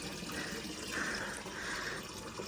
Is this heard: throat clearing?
no